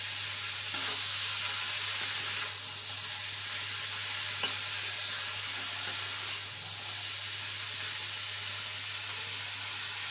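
Food being stirred in a pan on the stove, a steady hiss of frying underneath occasional soft scrapes of the spoon, close and continuous with no talking.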